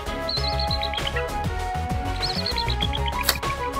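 Repeated eagle calls in a Roblox video game: a series of high, descending chirping cries over a steady game music bed, fairly loud and continuous, no speech.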